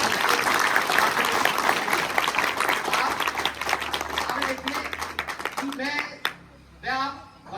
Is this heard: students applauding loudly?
yes